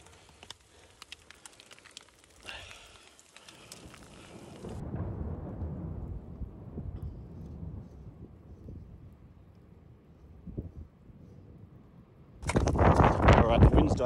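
Wind buffets and rumbling thunder roll beneath steady rain, then a sudden loud burst of heavy rain hits near the end; a voice speaks briefly, in the Atlas Mountains during a bikepacking race.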